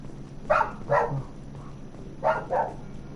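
A dog barks four times in two pairs of quick, mid-range barks, moderately loud over a quiet background.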